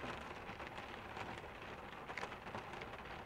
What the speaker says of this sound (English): It's windy, still raining.